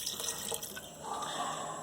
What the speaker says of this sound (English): Don't forget, like I did, to add the pasta water.